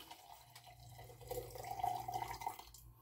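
Liquid is poured into a Homelite chainsaw, a faint, close trickling and gurgle that swells in the middle of the pour and then tapers off, with no voices.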